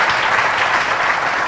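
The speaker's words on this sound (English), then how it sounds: "a big round of applause to Catcha Group." A business event audience gives a round of applause for Catcha Group, dense continuous clapping that stays loud and steady for the whole stretch, with no voices on top.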